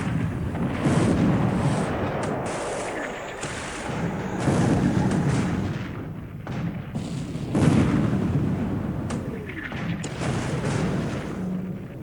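Naval shells hit in the War in the Pacific: Admiral's Edition game, a rolling series of deep booming blasts and rumbling explosions, several overlapping impacts swelling and fading with no talk.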